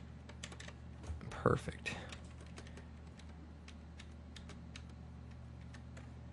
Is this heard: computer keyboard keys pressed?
yes